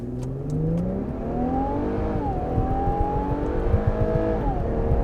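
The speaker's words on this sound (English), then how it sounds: "We're going to stop here and do an acceleration test, 0 to 60." A 2020 Infiniti Q50 Edition 30 AWD in automatic pulls hard from a standstill, its engine note climbing steadily with quick upshifts, heard from inside the cabin with no talking.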